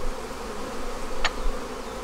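Honey bees fill crowded hives during a swarm-control inspection, giving a steady, dense hum close at hand, broken midway by one brief sharp click.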